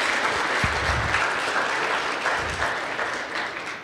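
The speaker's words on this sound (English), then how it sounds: "Martin Patterson and Javier Gonzalez, please give a round of applause." An audience at a technical conference applauds, a dense, continuous clapping that holds steady then gradually tapers off, with a few low thumps underneath.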